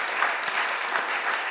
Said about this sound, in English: people like Melissa and Brendan deserve a round of applause